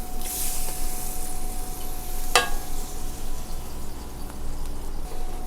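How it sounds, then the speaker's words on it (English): White wine poured into a hot pan to deglaze it for chicken garam masala, giving a steady, soft sizzle and hiss throughout with a brief sharp crackle partway through, no voices. "We'll deglaze with about a half cup of white wine."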